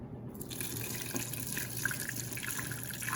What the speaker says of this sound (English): I'm simply going to pour it right back into the pot and strain it one more time.